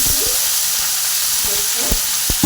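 Chopped onion, potato, tomato, green chilli and eggplant sizzle loudly as they go into a hot pan with mutton, a steady frying hiss broken by a few clattering stirs and knocks, no talk.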